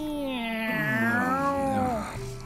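A single long, drawn-out meow rises and then slides down, loud and close, and sounds like a voice imitating a cat in a cartoon.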